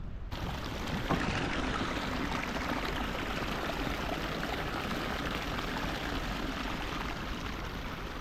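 Icy glacier meltwater stream on the Hamta Pass trek in the mountains, a close, steady broadband rush of flowing water that continues without a break.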